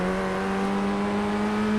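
A race car engine in the sim racing game iRacing holds a loud, steady drone, rising slightly through a short acceleration with a strong continuous tone and no voices.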